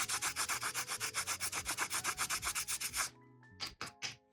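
Two cuttlefish bones rubbed against each other to sand them flat for silver casting, giving a rhythmic, close scratching rasp of about twenty even strokes, then a pause and a few scattered scrapes.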